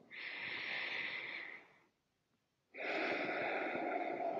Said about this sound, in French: vous allez prendre ces grandes respirations comme ceci pendant, allez, 1 minute, en appuyant sur le sternum